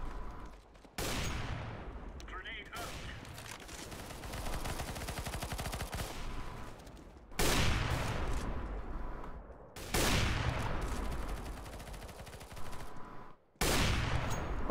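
A CS:GO decoy grenade fakes sustained automatic gunfire in long, loud rattling bursts separated by short gaps, with a few sharper restarts, and no talk over it.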